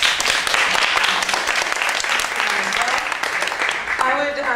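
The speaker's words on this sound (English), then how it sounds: "a round of applause" Audience applause at a women's, gender and sexuality studies thesis presentation event, a fairly close burst of clapping that runs throughout with some voices mixed in, fading as a few spoken words emerge near the end.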